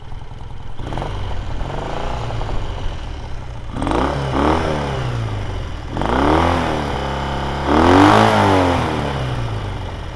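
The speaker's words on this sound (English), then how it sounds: "So we'll give her a bit of a rev. And as you can hear, it really does sound nice." A 1958 BSA 650 Golden Flash motorcycle engine with baffled exhaust idles, then is blipped in three rising revs that climb and fall back, each a little louder, heard close and alone.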